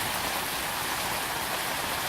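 Steady rain falls in a dense, even hiss, drops pattering continuously on surfaces at a moderate distance, with no voices.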